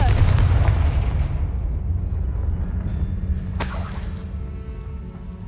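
Confringo spell blast in the Hogwarts Legacy video game: a loud, rumbling explosion that fades into a long low roar, with a brief bright crackle partway through the decay.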